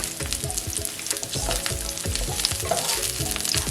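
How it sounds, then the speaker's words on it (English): Grease pops and sizzles steadily in a sauté pan, a close crackling hiss dotted with frequent sharp spatters and occasional stirring scrapes, with no voices. "This is popping, the grease is popping"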